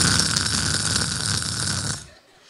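A comedian imitates loud snoring on stage, one long, rough, raspy drawn-out snore close to the microphone that runs about two seconds before trailing off into quiet.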